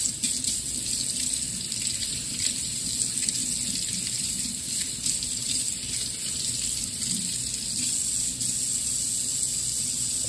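Tap water runs steadily from a faucet while something is rinsed in a sink, giving a constant close hiss and splash with no pauses.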